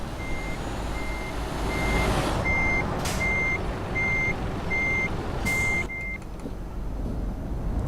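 Reversing beeps from a truck being parked in Euro Truck Simulator 2, a steady run of evenly spaced electronic beeps over continuous engine rumble, with no talking.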